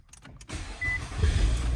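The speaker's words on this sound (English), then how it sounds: "We can turn off the hazard and just start the car." A push-button start on a 2013 Nissan Altima: a few quiet clicks, then the engine cranks and fires into a steady, close idle with a brief high whine as it starts.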